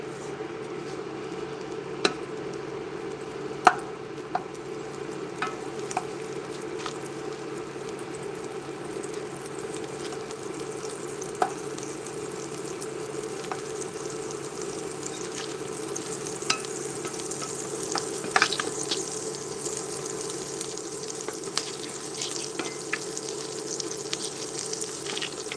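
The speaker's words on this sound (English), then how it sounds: "Just keep working it in the pan until it's melted." Butter melts in a hot pan on medium-high heat, a low steady sizzle under faint hum, with scattered light clicks and scrapes from stirring over a long stretch and no speech.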